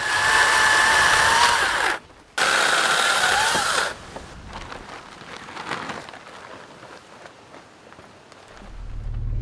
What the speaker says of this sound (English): we might hack up some of this firewood now with the chainsaw